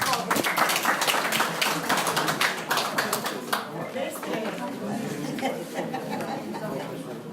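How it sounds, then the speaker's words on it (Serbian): Audience at a St. Tryphon's Day gathering breaking into applause, a dense burst of clapping mixed with chatter and laughter that gradually thins out and fades over several seconds. "Ajde da na aplauz."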